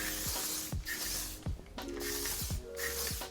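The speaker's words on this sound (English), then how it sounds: "Then I also like to take some hairspray and coat the strands." Hairspray hisses onto strands of hair in a few short, close bursts, each spray a quick pressurized whoosh separated by brief pauses.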